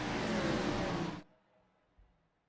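Race cars accelerating together at the green flag in iRacing at Montreal, a loud, dense engine roar that cuts off abruptly partway through, leaving near silence.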